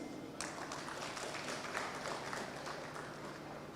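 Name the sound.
audience applause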